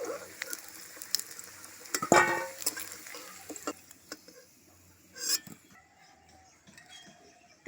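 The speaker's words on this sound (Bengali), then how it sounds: "তেলের উপরে কোচানো পেঁয়াজগুলো দিয়ে দিলাম" Sliced onions hiss and sizzle in hot oil while a spoon clatters and scrapes against the pan. Loud stirring bursts come through and then settle into a quieter, steady frying sound.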